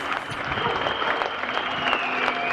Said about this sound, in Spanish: Es como un aplauso de marcha, más de protesta social. Hay un silbato allá de fondo.